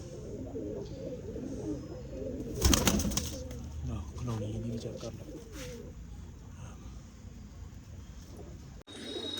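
Pigeons for sale sit together in a net at a pigeon seller's, cooing softly and steadily with a brief flutter of wings near the middle, while someone talks close by.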